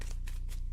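Two quick riffle bursts of a tarot deck being shuffled, each a short papery flutter, close and clear with no talking.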